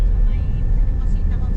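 Steady, loud road rumble of heavy traffic on a wide six- to seven-lane highway near Batangas, a continuous low engine drone with no breaks, heard close as if from inside a vehicle.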